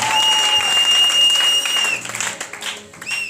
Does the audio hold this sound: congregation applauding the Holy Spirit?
yes